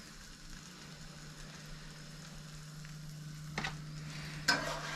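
A tortilla for a quesadilla cooking in a hot pan gives a faint, steady sizzle with a low hum beneath, broken by a couple of small clicks near the end.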